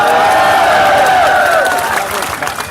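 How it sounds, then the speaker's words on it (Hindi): Crowd at an outdoor political rally in Haryana applauding and cheering, a dense, loud wash of clapping and voices that holds steady and then gradually thins toward the end. "आपकी तालियों का शोर एक एक लाइन पे दिल्ली तक जाना चाहिए"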